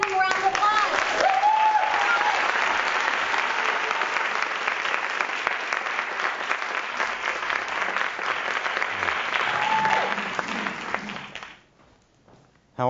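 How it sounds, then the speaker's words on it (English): An audience at a talk applauds to welcome Dr. Marc Gafni. The clapping is full and sustained for about eleven seconds, then quickly fades to near silence at the very end. "Let's give him a round of applause"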